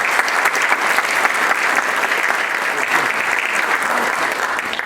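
An audience at a formal university ceremony on criminal procedure and oral litigation gives loud, dense applause, a steady wash of many hands clapping continuously throughout with no talk over it.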